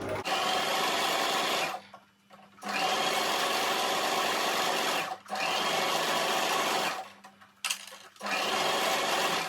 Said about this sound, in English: Okay, so guys, let's sew.